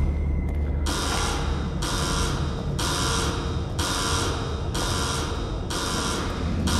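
Alarm buzzer in the video game The Evil Within, blaring in six evenly spaced bursts of roughly a second each, loud and harsh over a low rumbling background, with no talk.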